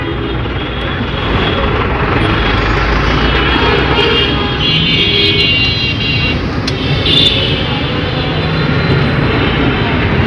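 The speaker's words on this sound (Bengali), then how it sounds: "কি রাপ চালাচ্ছে গাড়িগুলো, এমনিতেই রাস্তাঘাট ফাঁকা, তারপরেও খুব রাপ চালাচ্ছে" Cars race along a nearly empty city road near a flyover, a loud continuous roar of passing engines and road noise that swells and fades, with voices talking over it.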